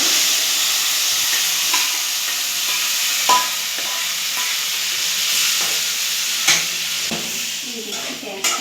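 Mutton stirred in a pan with fried cloves, coriander leaves, onion, ginger, garlic and tomato: a steady close sizzle with scattered scraping knocks of the spoon against the pan, no talking.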